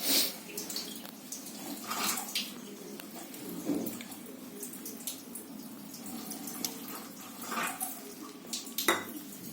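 Cold water is poured into a flour mixture with oil, ajwain and salt, then kneaded into dough for crisp savory shankarpali; steady wet splashing and squelching with small clinks runs throughout, close and moderately loud, with no talking.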